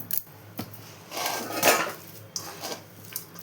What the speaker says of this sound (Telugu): ఇప్పుడు ఇదంతా కూడా దీంట్లోకి వేసేసుకోవాలి ఇది నేను అది చిన్నగా ఉంది కలపడానికి వీలుగా లేదని వేరేది తీసుకున్నాను ఇలా అంతా కలుపుకోవాలండి